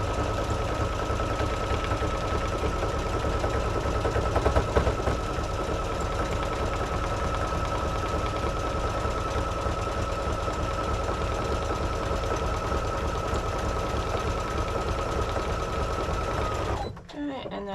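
Sewing machine running at a faster speed while stitching a seam repair on jeans, a loud continuous rapid whirring hum that holds steady for most of the stretch before cutting off near the end.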